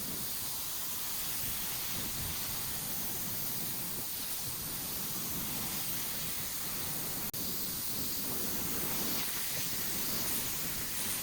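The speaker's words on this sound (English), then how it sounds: "When you're spraying a big flat surface like this, make sure to overlap your sprays" A steady, continuous hissing spray runs unbroken throughout, broadband and even, like an aerosol can held down and sweeping across a surface.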